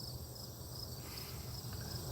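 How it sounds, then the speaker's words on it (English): Crickets and other insects chirp outdoors on a summer night, a steady, faint high-pitched trilling that runs unbroken through the whole stretch with no voices. "They're out here making a racket. The bugs and the frogs and the cricket."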